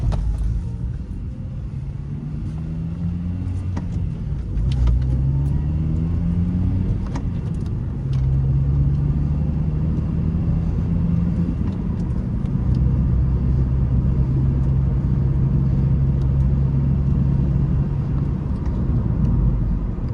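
Rusty car engine running low and steady throughout, a rough idle that rises into driving with a deeper, louder drone from about five seconds on, close and continuous with no talking.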